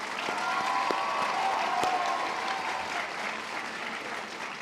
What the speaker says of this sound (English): Graduates, please give a round of applause and thank your families